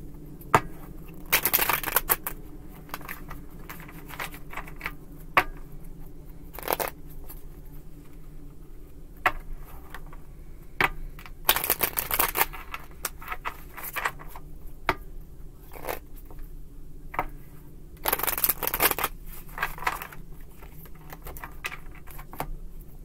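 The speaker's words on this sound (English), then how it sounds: "Three more shuffles." A deck of tarot cards being shuffled, several separate bursts of riffling and slapping cards spread across a quiet stretch, close and moderately loud.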